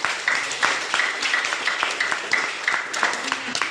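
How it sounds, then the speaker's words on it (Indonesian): Students clap together in a classroom, a dense burst of applause lasting a few seconds, with a teacher's voice audible over and around it. "Tepuk tangan dulu kalau begitu."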